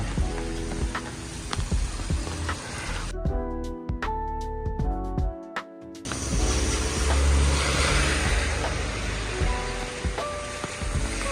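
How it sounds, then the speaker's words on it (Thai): Morning rain falling over a home garden, a dense, steady hiss of drops pattering on leaves and ground, broken by a brief quieter stretch of sharper drips before the full downpour returns. "ฝนตกแบบนี้ก็มืดฟ้ามัวดินนะครับ"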